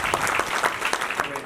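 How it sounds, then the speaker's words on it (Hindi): Enthusiastic audience applause at an award ceremony, dense rapid clapping from many hands, close and fairly loud for a brief burst. "मैं अनुरोध करूंगा आप सभी से कि उनके लिए जोरदार ताली।"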